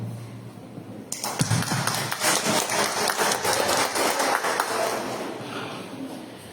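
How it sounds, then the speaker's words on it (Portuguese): Applause breaks out during a municipal council session, a burst of clapping from the chamber that begins abruptly after a quiet moment, holds steady, then gradually thins out. "Uma salva de palmas, se o senhor puder, vem compor a mesa."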